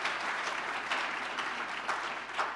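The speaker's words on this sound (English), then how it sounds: "How about another round of applause for all of our speakers and panelists today" Audience applause for speakers and panelists at the close of a 2022 event on American leadership in advancing the Sustainable Development Goals, a steady sustained clapping that fills the whole moment with no one talking over it.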